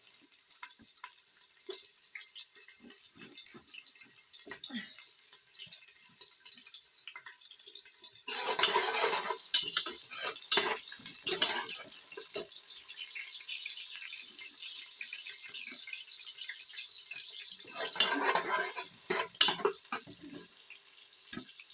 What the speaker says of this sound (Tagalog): Oil is already hot. Now we can put now this slices of organic onions.